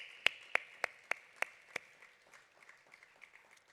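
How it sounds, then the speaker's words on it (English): A handful of sharp claps ring out in an uneven rhythm, then thin into faint scattered claps in a quiet room. "could we just have a round of applause for those bold 12 early adopters?"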